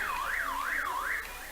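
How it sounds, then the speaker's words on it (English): A wailing alarm rises and falls in smooth repeated sweeps, used in place of a referee's whistle at a high school boys soccer game, sounding steadily over distant crowd ambience. "as we get the alarm for the whistle"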